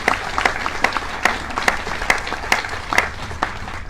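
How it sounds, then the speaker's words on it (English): Audience applause for frontline employees, steady clapping with distinct sharp claps rising from a dense crowd wash, moderately loud throughout with no talking. "Let's give them a big round of applause."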